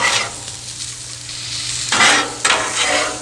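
Brown sugar glazed carrots being folded and stirred on a hot griddle, a steady close sizzle broken by two louder scraping pushes of a spatula near the end.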